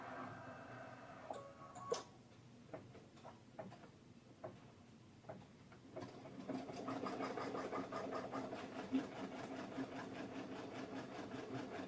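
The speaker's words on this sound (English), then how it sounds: "the first thing that we're going to stitch out is a placement box." An embroidery machine stitches a basting placement box for a top bar design, starting with sparse ticks and clicks, then settling into a steady, fast rhythmic stitching patter at moderate distance.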